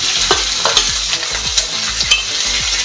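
Chopped onions sizzle loudly in a hot pan, with a steady frying hiss broken by regular scraping strokes as they are stirred, heard close and alone.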